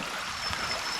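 A stream runs beside a hiking trail on the Bruce Trail in the Blue Mountains, producing a soft, continuous trickling and rushing of water at a moderate distance.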